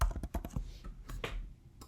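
Quick, uneven keystrokes on a computer keyboard, close by, a burst of clicks with a brief pause before a few final taps.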